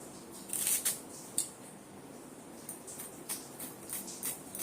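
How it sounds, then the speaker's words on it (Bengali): Kitchen knife finely slicing onions on a board, a run of light crisp taps and scrapes, some close and sharp, coming in irregular bursts with no talking. "এইবারে পেঁয়াজগুলোকে একদম ঝিরিঝিরি করে কেটে দেব"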